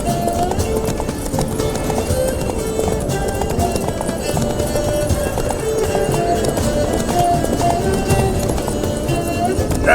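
Horse galloping with steady clip-clop hoofbeats in The Witcher 3: Blood and Wine, close and continuous for the full stretch, mixed with game music and background speech.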